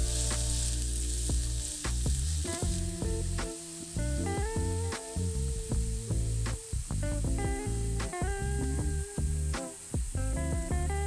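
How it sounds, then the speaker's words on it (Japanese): Finely chopped onions frying in oil in a pan for keema curry, a loud steady sizzle broken by occasional stirring scrapes, with no talking. "あまり触らずに焼き目をつけるようにしながら玉ねぎを茶色く加熱していきます"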